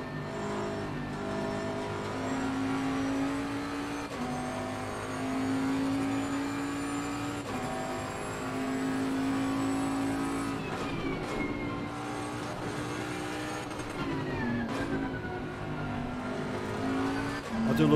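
Bentley race car in Assetto Corsa Competizione at Suzuka, its engine droning steadily at high revs with rising and falling pitch through gear changes, loud and continuous with a brief dip mid-lap.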